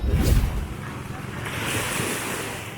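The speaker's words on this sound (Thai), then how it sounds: "ในที่สุดเราก็เดินมาถึงทะเลจนได้" Surf washing in at Chao Lao Beach in Chanthaburi on a morning outing, a broad steady wash of breaking waves with wind noise buffeting the microphone, loudest in the first half-second and then holding as a constant roar.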